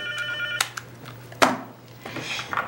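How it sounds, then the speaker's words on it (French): A telephone rings in a comedic TV scene, steady electronic ring tones at the start, then broken up by sharp knocks and thuds, moderately loud with no talking. "Voici le téléphone."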